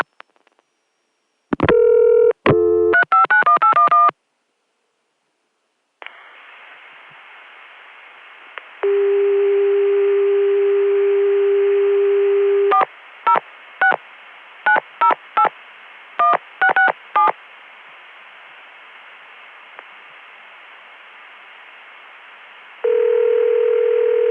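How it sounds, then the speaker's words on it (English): Telephone line audio from a 1981 ConTelNet CCSA network: rapid bursts of touch-tone dialing, a steady dial tone, then another quick string of tones dialing an area code, ending in a sustained tone, loud and clear. "I'm going to dial an area code, followed by something that has a 1 or a 0 in the wrong place"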